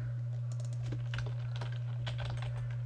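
Keys clatter on a computer keyboard in a quiet run of quick, irregular taps over a steady low electrical hum, close and fairly faint, with no talking.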